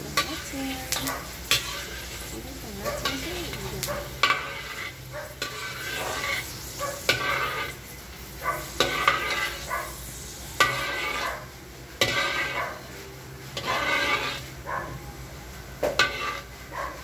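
Ginger fries in a pan with a constant sizzle while a utensil stirs and scrapes it in irregular bursts, close and fairly loud, with no speech.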